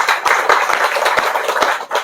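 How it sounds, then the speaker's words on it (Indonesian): Audience at an Indonesian PWILS gathering claps together after a call to applaud, a steady dense patter of many hands sustained for about two seconds without talk. "Tepuk tangan dulu"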